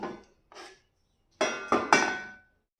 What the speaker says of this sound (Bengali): এবার আমি ফ্রাইং প্যানটা বসিয়ে দেবো